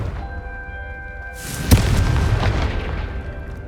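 A Confringo fire spell explosion in Hogwarts Legacy, a single loud boom with a sharp crack, followed by a rumbling roll that fades over the next couple of seconds.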